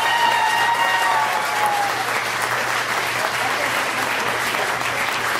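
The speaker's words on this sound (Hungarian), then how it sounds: "Nagy tapsot kérünk szépen először is Csárdás Edmonton táncosoknak." Steady applause from a concert audience for the dancers of a Hungarian csárdás folk dance group in Edmonton, dense and sustained at a constant level with some whistle-like tones early on.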